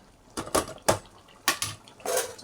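Mutton drumstick curry with coriander stirred in a pot, a spoon knocking and scraping the metal in a handful of short, distinct clinks with brief pauses between strokes.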